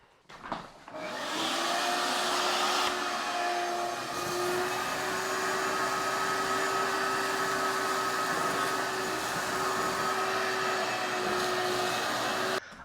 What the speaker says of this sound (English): I gotta vacuum that out.